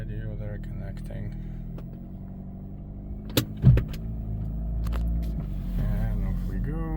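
A Fiat 500 modified for offroad use pulls away with a low, steady engine rumble, plus a couple of brief knocks partway through and a voice speaking over the motor noise.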